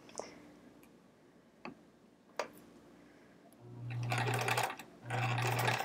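A sewing machine back tacks a seam on thick fabric, running in two steady buzzing bursts after a few sparse clicks and taps.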